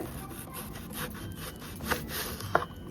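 A knife slices lengthwise through a peeled raw banana for fries, a close, rasping cut with a couple of sharper clicks toward the end, heard alone.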